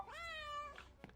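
A single drawn-out cat meow from the video game Returns Outlet Simulator, clear and close, ending with a short soft thump.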